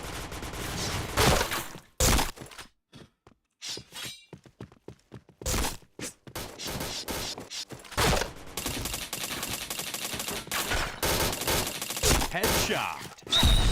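Rapid gunfire from the online shooter game Point Blank, dense bursts of overlapping shots and impacts that come in clusters with brief quiet gaps between them.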